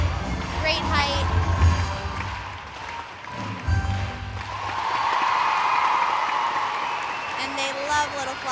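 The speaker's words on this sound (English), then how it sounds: "The whole crowd clapping along with her in this routine" At the 2017 Jesolo Trophy gymnastics event finals, an arena crowd claps along during a routine, with steady rhythmic applause and crowd noise running beneath a commentator who talks throughout.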